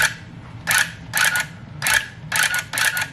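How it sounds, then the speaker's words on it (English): An electric tufting gun set to cut pile runs in short mechanical bursts, five rapid clattering buzzes separated by brief pauses, close and loud with no talking. "So now we're gonna cut our gun on, and when you cut it on, the light comes on in the back"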